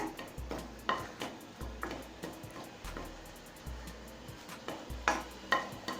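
Three dried red chillies roasting slowly in oil in a kadai, with a soft continuous sizzle under repeated metal spatula scrapes and taps against the pan at a steady stirring rhythm.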